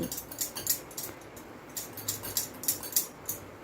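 Semolina and egg batter is mixed in a bowl, giving a quick run of light, bright clinks and scrapes from the utensil against the bowl. The sound is quiet and close.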